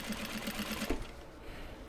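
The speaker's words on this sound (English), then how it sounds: "So I think we'll stitch these" Sewing machine top stitching Japanese fabric bags: a quick burst of rapid, even needle clatter that stops partway, then a quiet tail, faint and close.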